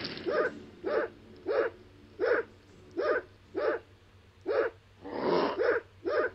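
A dog barks in an animated fight scene, about ten evenly spaced, moderately loud barks in a steady rhythm with no talk.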